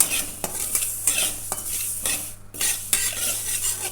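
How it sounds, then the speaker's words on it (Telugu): Tempering for drumstick pickle sizzles in a pan on the stove while a spoon stirs it in a rhythm of scraping strokes about every half second, with light metal clinks over a constant frying hiss. "తాలింపు పెట్టి స్టవ్ అయితే వెలిగించానండి, ఫ్రై చేసుకుంటున్నాను"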